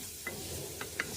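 Bacon fries until crispy in a pan, giving a brief, steady sizzling hiss with a few sharp pops and a faint scrape of stirring.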